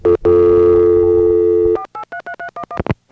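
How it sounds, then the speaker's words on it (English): A 1983 1A ESS Centrex telephone line gives a loud steady dial tone that cuts off as a rapid string of touch-tone digits is dialed, each short beep clearly separated, with no talking. "when you hear me completing the dialing of the number"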